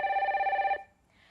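A single telephone ring on a call-in line, a short warbling electronic tone that cuts off abruptly as the caller connects, followed by near silence.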